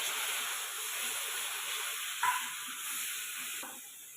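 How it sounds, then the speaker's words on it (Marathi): Tomato paste cooks in hot oil for a spicy brinjal and potato curry, giving a steady, even hiss and sizzle with a faint brief clink partway through and no voices. "तेल सुटेपर्यंत छान शिजू द्यायची टमाटाची पेस्ट"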